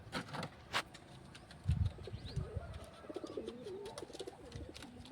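Pigeons in a village loft give soft, low cooing calls amid chirps, wing flutters and faint outdoor clatter, fairly quiet and close.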